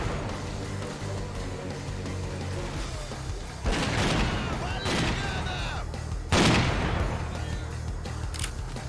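Gunshots in the shooter S.T.A.L.K.E.R. Clear Sky, a few loud separate shots with short rapid bursts among them, over a steady rumble of game ambience.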